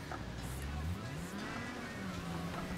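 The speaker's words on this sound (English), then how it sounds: "Sounds like a lawnmower when I put it in second gear." In the Wreckfest racing game, a car engine drones with a buzzy, lawnmower-like tone, pitch sliding up and down as it revs in second gear, steady and fairly quiet with faint noise around it.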